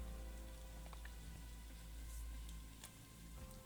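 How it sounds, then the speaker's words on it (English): Rain falling outside an indoor workspace where resin is being painted, a steady soft patter blending into the background hum, fairly faint and distant, with a few small knocks near the end. "I don't know if you can hear the rain there, so it started raining here."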